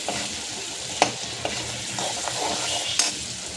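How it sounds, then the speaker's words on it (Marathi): Tomato sautéing in a pan for Kolhapuri-style misal gives a steady oily sizzle, with a few sharp spatula scrapes and stirs breaking through near the start and end. "लगेचच आपल्याला एक छोटासा टमॅटो पण टाकायचा आहे आणि मस्त ह्याला आपण परतून घेऊया।"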